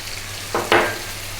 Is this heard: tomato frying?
yes